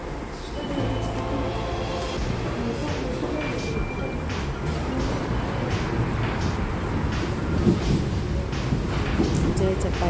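A train in France rumbles past loudly and continuously, a low mechanical roar with rattling, heavy and close throughout.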